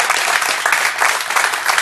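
Studio audience applause on a televised sports talk show, a dense steady wash of many hands clapping close and loud throughout, with no voices over it.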